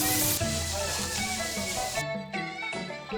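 Cabbage hitting a hot wok with onion, ginger, garlic and chili, giving a loud steady sizzle and frying hiss up close, with a brief drop in the noise as it is stirred.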